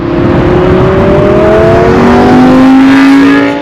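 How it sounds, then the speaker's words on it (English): A 2018 Audi R8 Gen 2 RWS with its V10 engine revs loudly and close, a rising high-pitched wail with climbing tones sustained throughout, no talking. "here's a quick clip of the sound to hear the V10"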